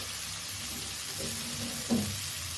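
Spices and ash gourd sizzle steadily in a pan for a Bengali katla fish curry, with a brief louder hiss and splash near the end as a little water is poured in.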